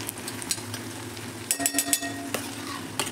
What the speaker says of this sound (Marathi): कांदा आणि कढीपत्ता एक अर्धा मिनिट परतून घ्यायचा.